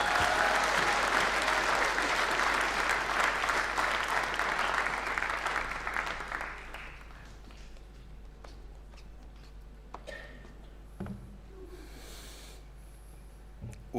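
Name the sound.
audience round of applause for sponsors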